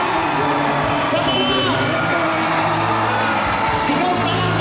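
A church congregation shouts and cheers together during a worship service, a loud, sustained roar of overlapping voices, whoops and yells from a packed room, with voices rising and swelling throughout.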